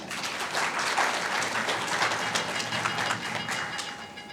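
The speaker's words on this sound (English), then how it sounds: "So a big clap for Ghana." Audience applause at a government summit on children, a fairly faint, steady wash of many hands clapping heard from a distance for several seconds.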